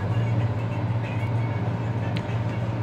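Riding inside a Delhi Airport Metro train between the airport and New Delhi station: a steady low rumble and hum of the moving carriage, even and unbroken, with no voices.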